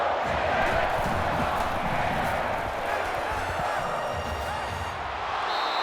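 Continuous stadium crowd roar from a college football video game, Mississippi State at Florida, a dense steady wash of cheering and clapping held at an even loudness for several seconds.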